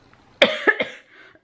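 A person coughs once sharply, followed by two quick smaller coughs, close and alone in a quiet room.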